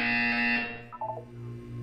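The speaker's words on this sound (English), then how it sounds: "When you hear the buzzer, look down at the floor." A buzzer in the Portal 2 video game test chamber sounds as a loud, steady electronic tone that stops abruptly, followed by a few brief, quieter tonal blips and a low hum.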